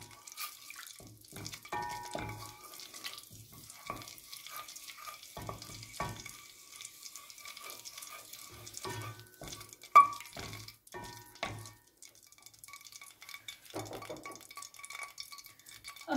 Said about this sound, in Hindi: कड़ी पत्ता डाल देंगे, मिक्स करेंगे इसको तकरीबन 1 मिनट के लिए